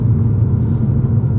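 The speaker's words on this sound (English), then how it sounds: "Do a quick downshift." A turbocharged Volkswagen GTI engine of about 400 horsepower rumbles deep and loud from close by in a short, steady burst of low growl during a quick downshift on a canyon drive.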